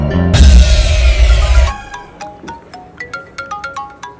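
A loud electronic phone ringtone plays close by in a movie scene, a bright melodic tone followed by a quick sequence of short chiming notes.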